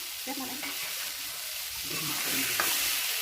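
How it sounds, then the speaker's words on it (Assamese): Potatoes with a little turmeric sizzle in a kadai, with a soft steady frying hiss broken by a few scraping stirs of the spatula. "এয়া এতিয়া আলুখিনি সুন্দৰকৈ ভাজি ল'ম।"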